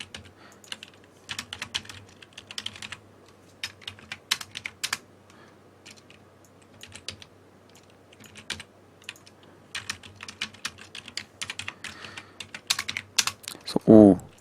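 Rapid, irregular clacking of computer keys while coding in C, typed in quick bursts with short pauses, close and fairly quiet, ending in a louder flurry.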